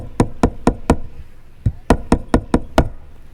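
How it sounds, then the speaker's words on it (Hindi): A hand knocks on a house door: a quick run of four firm knocks, a short pause, then a second run of six sharp raps, close and clear with no talking. "घर का दरवाजा खटखटाया"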